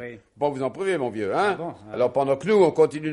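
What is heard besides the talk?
None of the usual background noises is heard.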